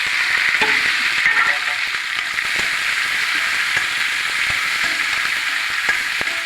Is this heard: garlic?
yes